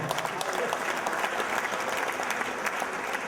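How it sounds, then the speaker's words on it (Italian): Audience applause at a sports awards ceremony in a Venice theatre: dense, sustained clapping from a full hall, steady and loud throughout, with a voice faintly mixed in. "Paolo Levorato, un applauso!"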